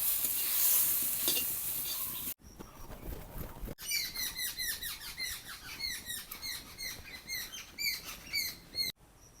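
Kharkol and coriander leaves fry in a pan as the water dries off, giving a faint crackling sizzle with light stirring scrapes and small squeaky pops, close by and without talk.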